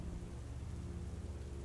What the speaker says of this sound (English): The predicament was made even harder by the constant sound of an impossible rain falling on the sides of the hull.